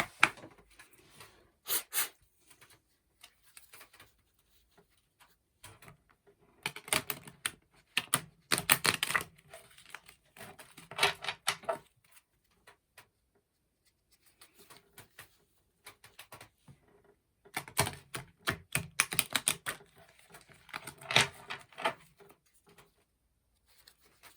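Oracle cards are shuffled in bursts of quick, crisp riffling clicks separated by quiet pauses, close and fairly faint.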